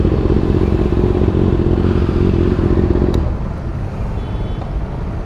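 A Kawasaki ZX6R motorcycle engine hums steadily up close, with a faint rhythmic scraping clatter from a loose rubber part rubbing; the engine note drops partway through.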